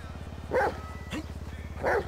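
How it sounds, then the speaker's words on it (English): A dog in the GTA 5 video game on a beach gives two short barks over a steady buzzing rhythmic background hum, fairly close and clear. "Why are you barking?"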